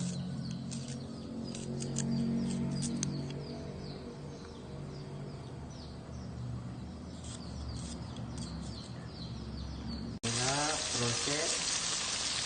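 Cassava leaves frying in a pan, a steady dense sizzle running throughout, close and fairly loud, with a brief break and a brighter hiss near the end.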